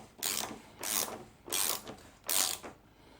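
Ratchet turning the front wheel spindle on a Suzuki GSXR750 motorcycle, four distinct bursts of clicking at a steady rhythm, close and fairly quiet with brief pauses between strokes.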